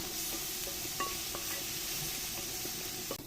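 Spice masala frying in a pan for dhaba-style aloo bhuna, a steady soft sizzle with occasional light stirring clinks and scrapes, close and continuous.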